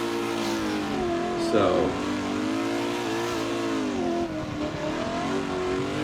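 A drift car's engine roars steadily through a drift competition run, with the pitch rising and falling as the car holds its slide. Someone talks briefly over the sustained engine noise.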